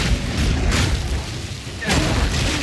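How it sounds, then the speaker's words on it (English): Explosions in the video game Path of Exile 2: a booming burst at the start and another near the end, both loud and broadband, with no clear speech. "Explosion, there we go."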